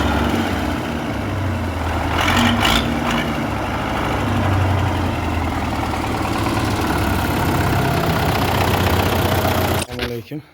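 A tractor engine idles loudly and steadily up close with a deep, even rumble for several seconds. It cuts off abruptly near the end with a short clatter.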